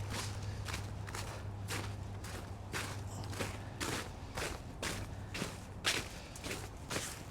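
Footsteps crunching across icy ground outdoors in a yard, a steady series of soft, fairly distant steps at a walking pace over a low steady hum and light wind.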